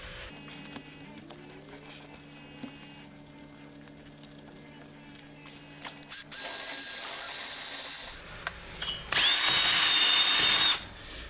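A high-speed power tool grinds rust off a brake part from a 2017 Chevy Cruze, coming in as two loud, steady bursts of abrasive whirring after a stretch of quieter background noise, with a rising whine in the second burst.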